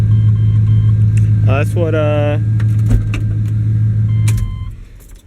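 A car engine idles in closed loop with a low, steady hum that fades out near the end, while someone speaks briefly over it.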